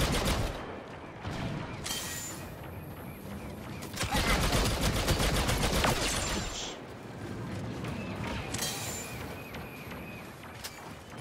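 Blaster gunfire from the Star Wars Battlefront 2 beta rattles in repeated rapid bursts, loudest in the middle, amid busy battlefield noise and faint talk.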